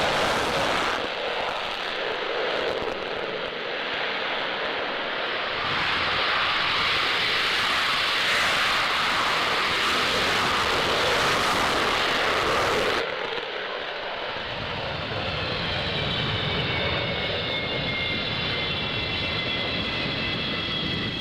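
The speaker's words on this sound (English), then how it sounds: "So we just saw those F-18s taking off." F-18 fighter jets taking off at a D-Day 50th anniversary air display, a loud, sustained broadband jet roar that swells and holds throughout, with a rising whine entering near the end.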